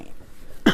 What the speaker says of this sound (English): I ended up coughing right into the mic